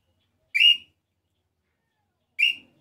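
A bird call whistle imitating the nambu pé roxo tinamou, blown with a throaty tone: two clear, short whistled notes about two seconds apart, close and alone against silence.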